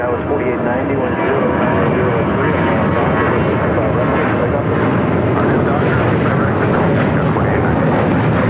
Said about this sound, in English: This is Southwest Airlines 3603 taking off to Dallas Love Field on a 737-800.